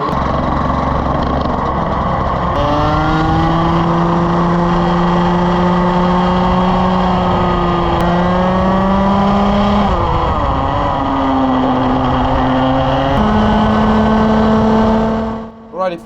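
A racing kart engine drones loudly on track, holding a steady buzzing pitch that rises and drops as the driver changes speed, before cutting off abruptly at the end.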